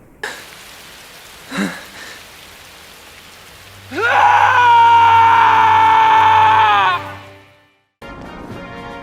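Cloud, a character in Crisis Core, lets out a loud, sustained, strained scream lasting about three seconds that fades away, preceded by a brief cough-like sound over hissing game ambience.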